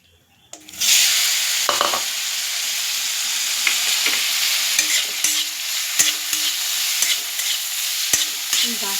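Boiled taro stirred and frying in mustard oil in a pan, a loud sizzle that starts abruptly and holds steady, broken by repeated scrapes and knocks of the spoon against the pan.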